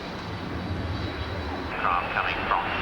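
Steady roar of a Tornado F3 jet flying with its wingman at the RAF Abingdon airshow in 1990, a broad distant rumble that holds constant throughout, with a crowd murmuring and faint chatter underneath.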